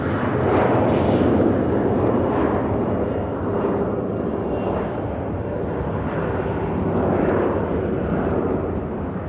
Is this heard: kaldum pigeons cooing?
no